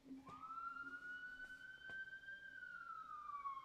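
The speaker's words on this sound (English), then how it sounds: "I'm going to mute real quick while the siren passes" An emergency vehicle siren sweeps past as a long rising and falling wail, fairly faint and distant, steady for several seconds with no talk.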